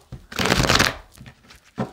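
A tarot card deck shuffled close by: one loud, dense riffling burst followed by a few softer shuffles and taps.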